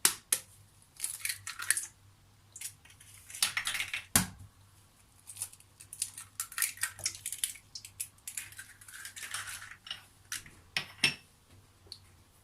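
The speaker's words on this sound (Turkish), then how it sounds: "Karıştırma kabımızın içerisine yumurtalarımızı kıralım." Eggs are cracked into a mixing bowl for a tahini cake batter, with sharp taps and clicks in uneven bursts, close and crisp against a quiet background.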